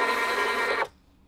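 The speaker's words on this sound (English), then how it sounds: "let's see what comes out of our trusty Zebra printer" A Zebra label printer in a warehouse runs a label, a steady close mechanical whir and buzz that stops abruptly near the end, leaving near silence.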